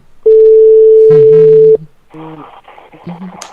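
An outgoing telephone call gives a single loud, steady ringback tone lasting about a second and a half, then cuts off as voices start talking over the line.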